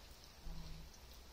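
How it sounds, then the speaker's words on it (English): Steady rain falling in Sydney, a soft continuous patter of drops on surfaces, fairly faint and even throughout with a slight swell near the middle and no voices. "The rain has not stopped in Sydney."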